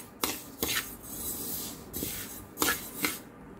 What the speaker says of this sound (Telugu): ఇప్పుడు ఈ నువ్వుల్ని ఇనప పేనంలో వేసి కొంచెం కొంచెం వేయించుకోవాలి